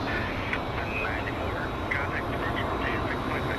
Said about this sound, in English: And that is the plane responsible for the noise.